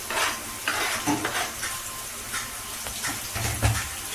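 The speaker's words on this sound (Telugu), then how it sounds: "మిర్చి కొద్దిగా ఫ్రై అవుతుంటే ఆనియన్స్, తర్వాత టమాటో ఫ్రై అయిపోతుంది" Chillies, onions and tomatoes fry in a pan, a busy close sizzle with repeated clattering stirs and scrapes of a spoon throughout.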